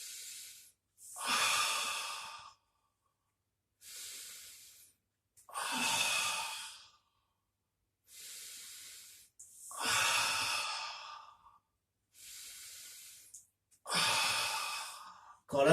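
Slow, deliberate breaths drawn in and pushed out during a Pilates exercise, each breath a clear airy rush lasting about a second, repeated in a steady rhythm with quiet gaps between, close and fairly soft.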